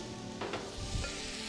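Cooked cauliflower goes into a pan of onion and garlic frying in oil, giving a steady close sizzle with a few brief stirring scrapes and no voices.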